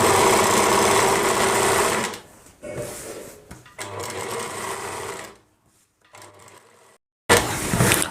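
A sewing machine stitches magzi piping onto a Rajputi-suit kurti in close, loud bursts of rapid whirring, broken by short pauses and quieter stretches, with no talking.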